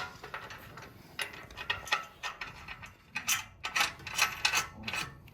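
Metal bolts being fitted and hand-tightened into a solid assembled structure, giving a string of short scraping, rubbing and clicking bursts at close range, irregular and moderately loud.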